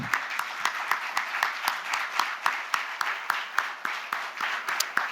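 A conference audience at a real estate industry event claps in a slower, rhythmic pattern with distinct individual claps. The applause is moderately loud and fairly close, with faint talking underneath.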